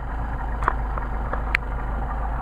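A car engine fitted with Charles Solex carburetors idles at around 650 to 700 RPM, a steady low, even rumble close by with a couple of faint clicks.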